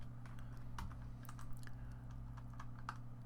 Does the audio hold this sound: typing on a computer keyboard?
yes